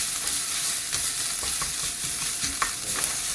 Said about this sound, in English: So now we're going to add our tablespoon of crushed garlic, saute that in